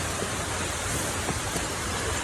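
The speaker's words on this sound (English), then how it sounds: "Just walking up the rocks to the waterfall." Steady, dense rushing of a waterfall pouring over rocks, a constant broadband roar heard up close with no breaks and no voices.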